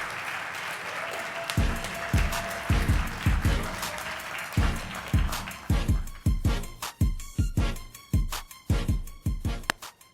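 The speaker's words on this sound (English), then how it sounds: "Can we give our friends another round of applause, please" An audience at a talk event applauds, starting as a broad wash of clapping and thinning into sharper, separate claps that continue to the end.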